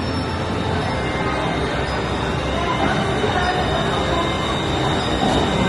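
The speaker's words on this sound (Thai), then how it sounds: "นี่รถไฟกลับมาละ" Train pulling in at a Bangkok station: a dense, continuous rumble of rolling wheels with a faint high whine of metal squeal, steady and fairly loud throughout.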